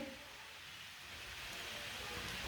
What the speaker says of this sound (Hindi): पानी को उबाला आ चुका है अच्छी तरह।